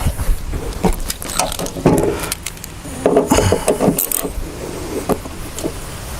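Metal bolts being worked loose from a John Deere LA120 mower deck spindle, driven straight into aluminum housing and turned with a 10 mm tool: scraping, clinking tool and metal rubbing in irregular close bursts.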